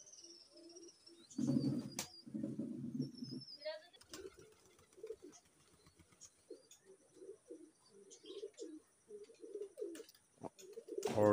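Maya pigeon cooing in low, repeated rolling phrases, close and fairly quiet, with a few brief wing flaps or scuffs between calls.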